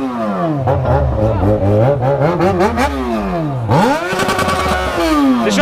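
Yamaha XJ6 motorcycle engine revving hard and close, rising and falling in repeated throttle sweeps with a sharp climb near the end, loud and continuous.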